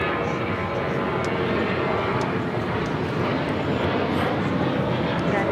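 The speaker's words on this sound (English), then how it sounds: "This is United Airlines 1395 taking off to Austin on the 737-800." Engines roar steadily as a United Airlines Boeing 737-800 takes off from Los Angeles airport, a loud, sustained broadband rumble at fairly close range with faint higher whines and no voices.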